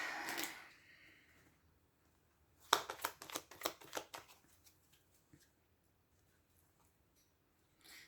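Tarot cards riffle and flick in a quick burst of crisp, papery snaps, close and moderately loud, then trail off into a few scattered taps and near silence.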